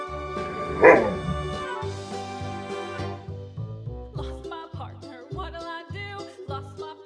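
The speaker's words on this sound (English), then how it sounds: "Dog." A single sharp bark stands out over a bouncy tune with a steady plucked bass line that keeps playing after it.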